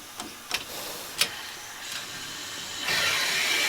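A steam locomotive's boiler injector, used at about 180 psi, is turned on: a few sharp clicks and short bursts, then a steady rushing hiss of steam as water is forced into the boiler.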